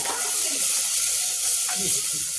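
Chopped onion drops into hot oil in a pan for an Indian home-style thali, giving a steady, close hiss of frying that holds throughout with faint stirring touches.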